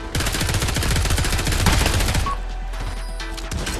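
Rapid machine gun bursts in the VR shooter Pavlov VR, a loud, dense stream of automatic fire for about two seconds, then a quieter mix of game noise and distant shots.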